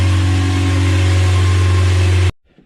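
A Geo Tracker's swapped-in 2.0 engine runs loudly and steadily nearby on its first start, a constant low rumble that cuts off abruptly near the end, leaving near silence.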